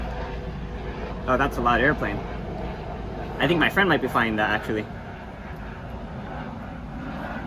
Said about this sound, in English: Oh, that's a loud airplane.